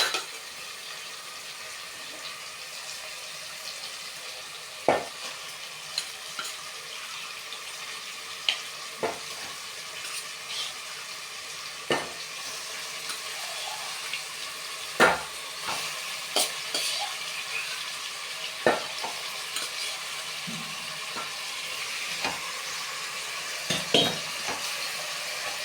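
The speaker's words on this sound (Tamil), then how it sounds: "மொத்தமாக நல்லா வதக்கிக்கலாம்." Yogurt-marinated chicken for biryani sautés and is stirred in a pan, giving a steady frying sizzle broken by scattered sharp clinks and scrapes of the spoon, close up and with no talking.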